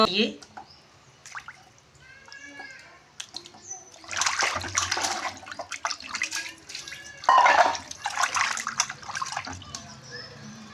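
Sea fish are rinsed by hand in water, two or three washes, with irregular splashes, sloshes and drips coming in bursts, loudest in the second half, while a person talks over them.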